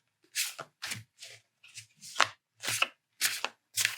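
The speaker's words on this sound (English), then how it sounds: "as I shuffle" Tarot cards are shuffled close to the microphone in a quiet ASMR setting, giving a series of about eight crisp, papery riffles in an even rhythm, each separated by a short silence.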